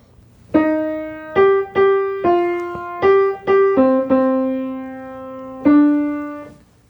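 Solo piano playing a phrase from Rodolfo's Act 1 aria in Puccini's La Bohème, about a dozen distinct struck notes and chords in a slow, halting rhythm, close and clear, ending on a held note.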